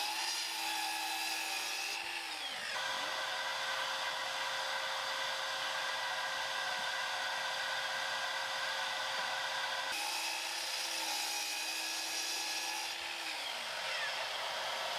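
A power saw cuts wooden boards to length for a Shaker bookshelf, whining loudly and continuously with two cuts audible as the pitch drops when the blade bites into the wood, close and without talk.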